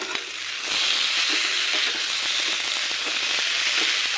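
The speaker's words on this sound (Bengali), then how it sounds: "এই যে এখানে আলু কাঁকরোল, আলু আর কাঁকরোল পেঁয়াজ দিয়ে ভাজা হচ্ছে।" Potato and pointed gourd fry with onion in a pan, a dense crackling sizzle that swells after a brief softer start and continues steadily with faint stirring.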